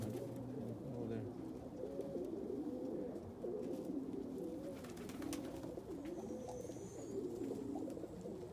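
Bald-head pigeons, a cock bird and a hen, coo in continuous overlapping low murmurs close by, steady and layered, alone without talk.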